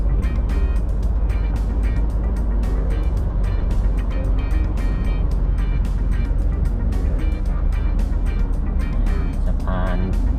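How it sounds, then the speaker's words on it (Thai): Road traffic with trucks on Rama 2 Road in Bangkok forms a constant loud rumble of engines and tyres close by, with heavy low drone and passing vehicles throughout. "รถบรรทุกก็ยังเยอะอยู่นะครับ"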